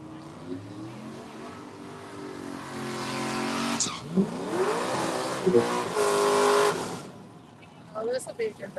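Race cars accelerate around a circuit, engines rising and falling in pitch as they pass, with a sharp tire squeal partway through; a commentator talks over the engine noise.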